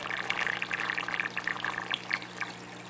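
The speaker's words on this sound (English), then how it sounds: "It's trying to suck air through the system." A DIY aquarium sump overflow siphon gurgles and slurps as it sucks air and water, a continuous bubbling, choppy rush close by with irregular pulses and no talk.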